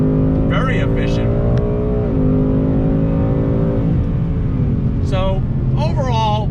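A 2020 Ford Mustang GT with the 10-speed automatic pulls out of a turn on throttle, its engine a steady, loud, rising drone heard from inside the car, with a voice talking over it in short bursts.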